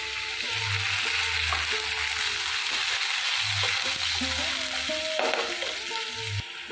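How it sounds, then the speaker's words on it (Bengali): Onion, tomato and garlic paste frying in a pan with cumin, a steady loud sizzle running throughout while a spoon scrapes and stirs in repeated strokes close by. "পেঁয়াজ টমেটো রসুনটা ভালো করে আমি একটু ভেজে নেব"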